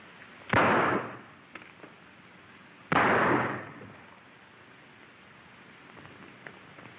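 Two loud, sharp gunshots crack out a few seconds apart in a 1930s western gunfight, each with a short echoing tail, leaving quieter ambience between.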